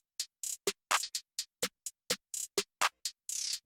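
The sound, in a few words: extra snare added to hip hop beat, FL Studio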